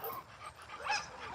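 A dog during springpole training gives a short, high whimper with a brief yip-like rise, close by and alone.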